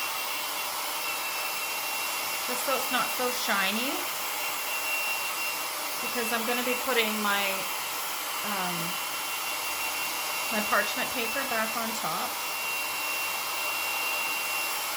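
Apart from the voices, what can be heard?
blow dryer drying ink on a throw pillow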